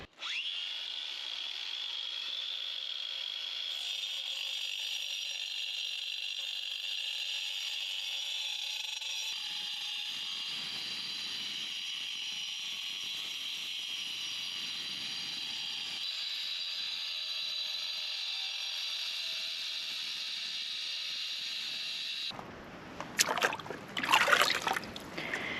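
An angle grinder cutting stone to fit for an off-grid building in Portugal, a loud sustained whine running steadily with slight load changes, ending in a few rough clattering knocks.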